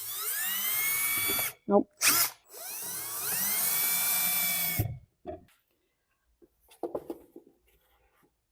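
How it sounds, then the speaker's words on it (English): A power drill bores a pilot hole into a garage wall, whining loudly in two long bursts with short bursts between, followed by quieter handling noises and a brief spoken word. "I'm gonna go ahead and drill a pilot hole just to make sure that these aren't studs."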